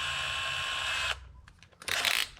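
A handheld power drill bores into solid boat fiberglass while fitting a Garmin Panoptix ice bundle, a close, high whine that runs steadily for a second, stops, then bursts briefly again.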